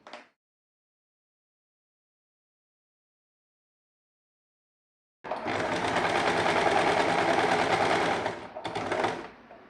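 After a long silence, a sewing machine stitches a partywear top, a fast, loud, steady whirring run close by that stops briefly near the end and starts again.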